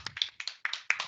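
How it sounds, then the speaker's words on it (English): A single person claps for a speaker at a Toastmasters meeting, about five close, sharp claps in an uneven rhythm with short gaps between them. "Let me clap for you."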